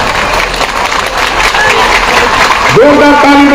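Crowd applause at an outdoor political rally in Siwan, Bihar, a steady wash of clapping throughout, with a brief electronic tone or feedback entering near the end.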